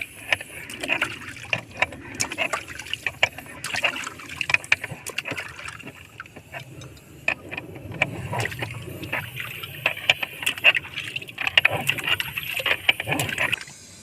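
Water runs from the pipe of a newly finished tube well in a steady, splashing trickle with scattered clicks and knocks, moderately close.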